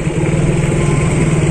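A motorcycle engine idles close by in a steady, throbbing low rumble with a constant even pulse and no revving.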